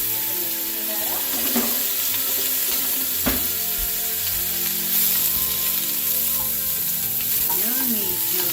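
Garlic being stirred with red curry paste in a hot pan, a constant sizzle broken by occasional scrapes and knocks, with faint speech in places.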